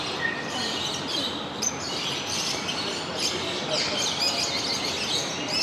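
Parrots chirp and call inside a bird garden aviary in Iran, African parrots from Madagascar, with a dense, continuous wash of overlapping tweets and squawks at moderate loudness.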